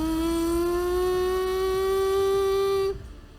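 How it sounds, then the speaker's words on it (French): A German dive bomber's siren wails as one loud, sustained tone that climbs slowly in pitch for about three seconds, then cuts off abruptly, leaving a fading faint tail. "C'est les trompettes de l'apocalypse, des bombardiers en piqué allemand."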